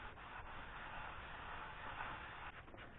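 A metal oil pump adapter glides under its own weight across a flat abrasive surface, giving a steady, continuous scraping rub at close range with no talk.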